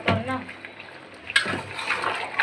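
Water splashing and running while a cooking pot is washed, with bursts of pouring and sloshing that swell midway, close and fairly loud.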